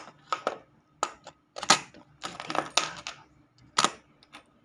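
Keys jingle and clink in short, irregular bursts as they are handled and tucked away, close and crisp with quiet gaps between the metallic rattles.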